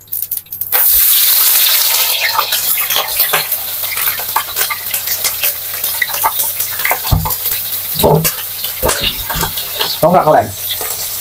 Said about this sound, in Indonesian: sekarang lanjut aku gorengin dulu ya, goreng terinya